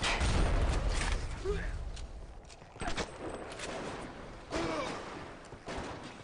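Shotgun blasts ring out in BioShock, a few sharp booming shots spaced seconds apart over a muffled background, with a voice talking between them.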